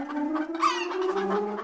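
A single chicken's clucking call rises and wavers for a moment, close and fairly clear, with a steady low drone underneath.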